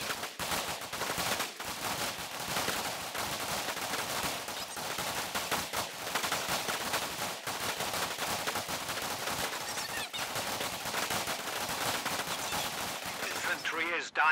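Dense, sustained gunfire from rifles and machine guns crackles throughout as Osttruppen and riflemen trade shots in the strategy game Company of Heroes 2, with near-constant overlapping bursts and no pauses.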